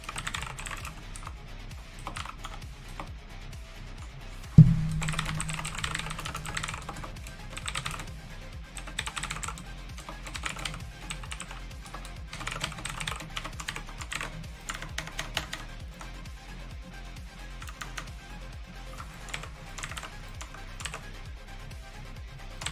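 Typing on a new computer keyboard, rapid uneven clusters of close key clicks with short pauses and one sharp louder thump near the start, no speech.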